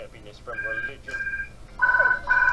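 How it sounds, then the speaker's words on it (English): An electronic phone trills in short repeated bursts, the rings growing louder toward the end, in a room while The Simpsons Hit & Run plays on PS2. "because the phone's ringing."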